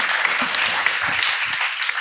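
Brief audience applause at a panel discussion on global public goods, a dense even patter of clapping, fairly loud, lasting about two seconds.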